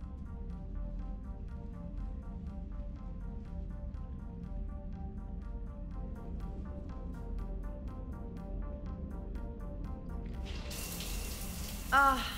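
Shower water runs steadily in Mass Effect Legendary Edition, a soft continuous spray heard alone under faint background music, with a brief louder splash right at the end.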